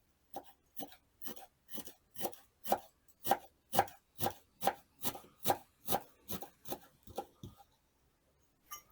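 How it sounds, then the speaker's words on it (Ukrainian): Dill is chopped finely on a board with a knife, about twenty crisp, evenly spaced strokes that build up, then fade and stop. Close and fairly quiet, with no voices. "Для цього я беру кріп, подрібнити його дуже міленько."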